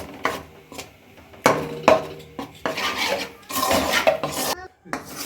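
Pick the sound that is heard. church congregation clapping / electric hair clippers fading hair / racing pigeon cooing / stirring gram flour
stirring gram flour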